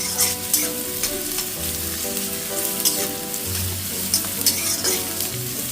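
Onions fry in oil in a pan with a steady, close crackling sizzle. Occasional stirring scrapes and a faint low hum sit underneath, with no voices.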